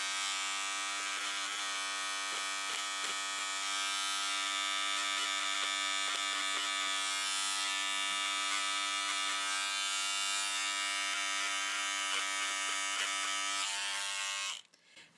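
An electric seam ripper buzzes continuously as it cuts through a pressed-open fabric seam, a close, steady motorized whine with slight fluctuations, then stops abruptly at the end.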